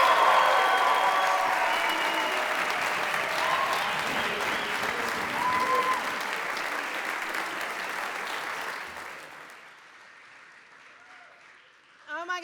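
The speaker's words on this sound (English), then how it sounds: "this ought to be the loudest cheer we hear tonight" An audience at the 2023 LEAFYs awards event cheers and applauds to welcome the president, loud sustained clapping and whoops that fade out toward the end before a voice starts speaking.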